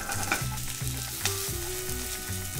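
Garlic, onions and mild spiced chorizo frying in butter in a paella pan, a steady close sizzle with occasional stirring scrapes and utensil taps, no voices.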